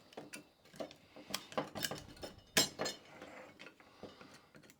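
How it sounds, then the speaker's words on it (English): A bolt being worked out of the bottom of an NP 203 transfer case shifter, with irregular metallic ratcheting clicks and clanks close by. "Pull that bolt out of the bottom."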